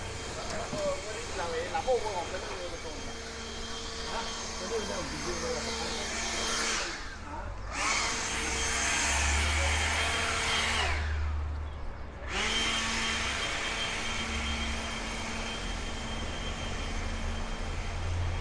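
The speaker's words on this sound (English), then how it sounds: "we're gonna have some noise for a second here. Got a leaf blower lady." A steady, loud whirring leaf blower drone runs throughout on a Brooklyn street, with someone talking over it, briefly dipping twice before resuming.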